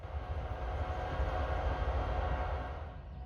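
Freight train with autorack cars rolling through the Ayer rail yard, a steady low rumble with broadband rail noise held at constant loudness throughout, no voices.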